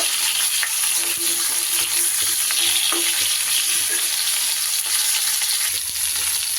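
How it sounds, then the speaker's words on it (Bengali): Cauliflower florets frying in hot oil, turned over and over in the pan for a catla fish curry. A loud, dense, continuous sizzle runs throughout, with faint spoon scrapes now and then and no speech. "ফুলকপিগুলো কিন্তু আমি নেড়ে চেড়ে ভালো করে ভেজে নেব"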